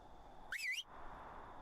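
Whistle command in ARK: Survival Evolved: a single rising-and-falling whistled call, clear and fairly close, lasting about a third of a second over a quiet game ambience with no speech.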